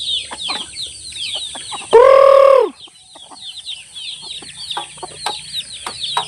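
Chickens and chicks cluck and peep steadily on a farm, with a loud drawn-out rooster crow rising over the flock partway through.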